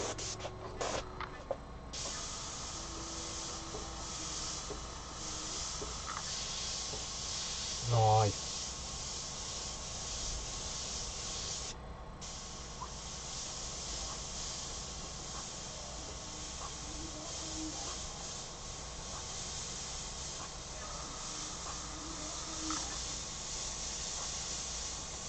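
An airbrush sprays paint onto a denim jacket, a steady close hiss that runs almost unbroken with a short break near the middle, while a person talks at times over it.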